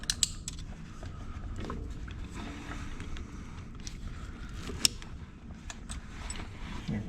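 Metallic clicks, creaks and small mechanical scrapes as hose clamps are worked off the fuel heater hose of a 1997 Dodge Cummins, irregular close-up handling noises without speech.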